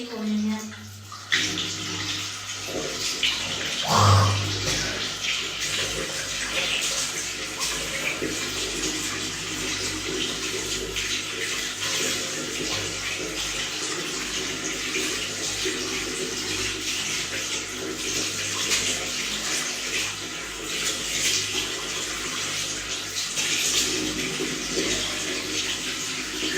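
Tap water runs steadily for ablution (wudu) in a home washroom, a continuous broadband rush that holds at an even level throughout, with a brief thump near the start.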